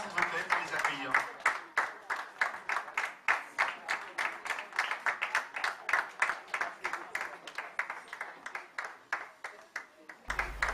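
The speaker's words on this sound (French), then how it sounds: "Des applaudissements, s'il vous plaît, pour les accueillir." Fashion show audience greeting performers at a catwalk event at the Foumban monument, with a fairly sparse run of distinct, evenly spaced claps carrying on for about ten seconds at a moderate level.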